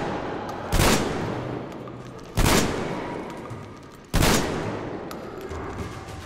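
Gunfire in the video game Metro Exodus, three loud single shots from a shotgun-like weapon spaced about two seconds apart, each with a sharp crack and a fading tail.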